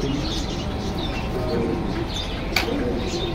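Pigeons coo softly amid general bustle at a pigeon market in Jinjira Bazar, Keraniganj, with faint chirps and a brief sharp click over steady background noise.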